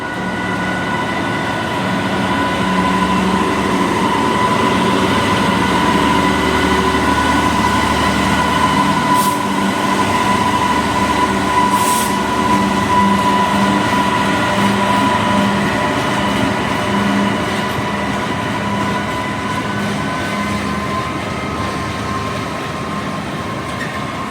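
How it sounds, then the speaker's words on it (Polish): At Mysłowice station, a freight train of Talbot wagons rolls in with a continuous heavy rumble and faint wheel squeal, loud and close for the whole stretch, with no voices. "No i mamy pierwszy skład towarowy na stacji Mysłowice. skład z talbotami"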